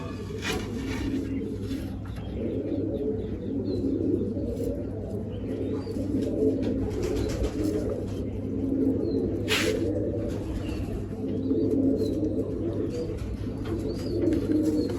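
A pigeon drinking water gives soft, repeated low coos close by, a gently pulsing murmur that runs throughout, with a faint voice now and then in the background.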